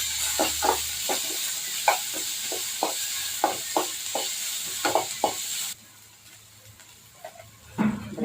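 Onion and curry leaves sizzle steadily in hot oil for a drumstick stir-fry while a spoon scrapes and stirs in regular strokes; the sizzle drops quieter near the end.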